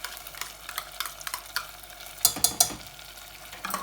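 Lamb curry sizzles in a pan just after garlic-ginger paste goes in. Scattered scraping and clattering stir strokes sound over a steady frying hiss, with a cluster of sharper clinks partway through and no talking.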